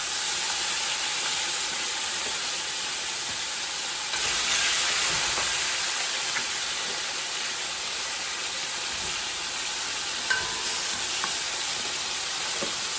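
Oxtails frying on a stove top hiss and sizzle in a loud, continuous wash of crackling grease, with a slight swell partway through and an occasional faint pop.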